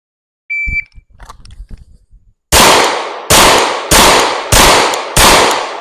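Five loud, sharp pistol shots are fired with live ammunition from the 15-yard line, evenly spaced about a second apart, each with a short ringing decay, preceded by a beep and faint handling noises.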